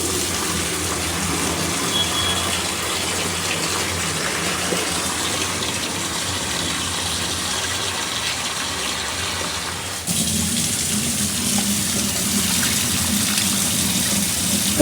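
Water is poured into a large pot of beef during a batch of about 15 kg of beef cooking. It makes a steady, continuous gush throughout, with a small shift in tone partway through and no talking.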